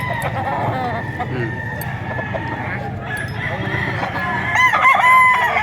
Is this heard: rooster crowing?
yes